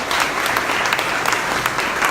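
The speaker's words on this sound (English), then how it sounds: "All right, let's give them a round of applause." An audience applauds presenters at a One Million Cups pitch event, dense steady clapping from a room full of people, lively and continuous for the whole short stretch.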